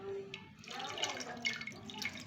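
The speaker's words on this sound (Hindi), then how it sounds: "तो इसमें थोड़ा सा मैं पानी ऐड करूंगी" Water poured in small amounts into ground moong dal during home cooking, a soft continuous trickling and dripping at close range, fairly quiet and steady throughout.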